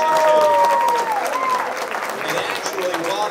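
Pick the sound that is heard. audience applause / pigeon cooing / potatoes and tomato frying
audience applause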